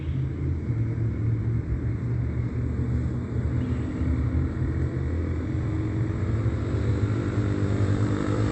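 Steady low rumbling drone of an aircraft passing overhead in the early morning, continuous and fairly loud throughout with no voices.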